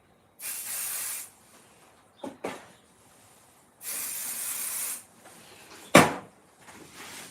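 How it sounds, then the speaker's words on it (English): Two bursts of cooking spray hiss from an aerosol can, each lasting about a second, with clunks and clatter of handling in between and a sharp knock. "Sometimes I don't pay attention where I'm spraying it"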